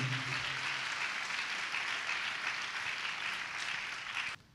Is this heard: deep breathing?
no